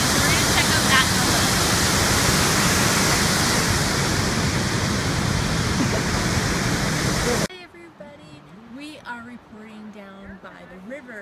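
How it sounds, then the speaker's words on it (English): Loud, constant roaring rush of a waterfall heard from the top of the falls for about seven seconds, then cutting away to a quieter scene where a person talks. "This is the top of the falls, and then it goes down that way."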